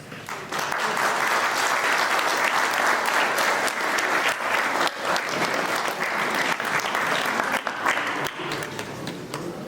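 Sustained applause from a crowd at an exhibition opening in Les Gets, dense and steady clapping that starts abruptly and continues evenly for several seconds before tapering slightly.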